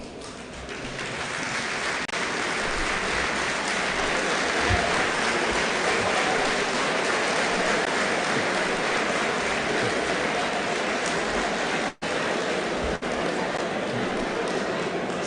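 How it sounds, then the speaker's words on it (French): A large crowd of young supporters at a political congress in Senegal applauds and cheers continuously, a dense, loud and sustained roar of clapping and shouting that fills the hall, with a brief break near the end. "je voudrais bien demander à cette jeunesse de se lever et de s'acclamer"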